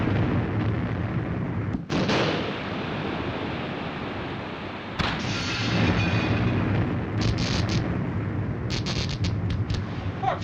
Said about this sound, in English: It's hard to tell with these depth charges.